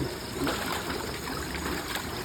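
Steady running water pours and trickles close by, a continuous even wash with no voices over it.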